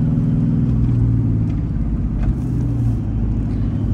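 A supercharged car engine rumbles steadily at low pitch, a smooth continuous drone heard from inside the vehicle.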